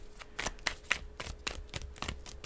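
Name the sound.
tarot cards being shuffled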